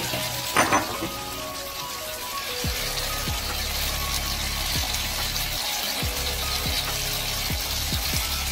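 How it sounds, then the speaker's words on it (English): Water hits a hot pan of frying beef with lotus root and green beans, raising a sharp burst of sizzling that settles into a continuous loud bubbling fry with occasional stirring clinks. "so we're gonna put half water again"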